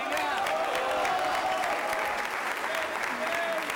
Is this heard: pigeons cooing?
no